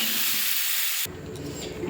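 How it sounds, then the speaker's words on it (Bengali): Soaking water from dried mango is poured into a hot pan of vegetables with salt and turmeric, giving a sharp, loud steam hiss that cuts off abruptly halfway, followed by a softer bubbling simmer. "এই যে আমসির জলটা ভিজে রেখেছিলাম এটা দিয়ে দেবো।"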